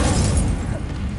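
Fire spell cast in the Hogwarts Legacy video game, a dense loud burst of roaring, crackling fire-like noise that fills the whole short moment with no pause.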